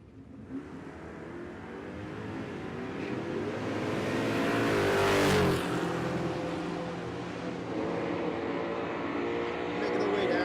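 A C5 Corvette drag racing at Texas Motorplex in a naturally aspirated small block class builds from a low rumble into a loud, rising engine roar that peaks as it passes close by, then holds a steady, slightly fading drone.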